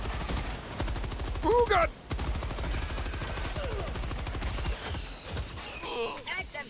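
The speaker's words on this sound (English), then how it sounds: "I'm pulling out the machine gun" Rapid machine gun fire from a Helldivers II shooter game, dense steady bursts running nearly throughout with brief gaps, loud and close, mixed with game effects while a player exclaims over it.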